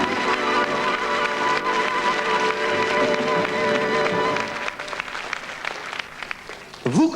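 An audience applauds a French artist, dense clapping for about four seconds that thins out into scattered claps, with music or voices audible underneath.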